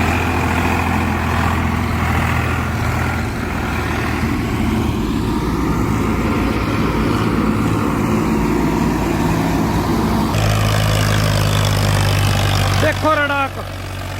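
Two tractors, an old Swaraj 855 and a newer Farmtrac 60, rumble in a steady low engine drone while working in deep wet mud, loud and continuous, with a sharper revving burst near the end and voices talking over it.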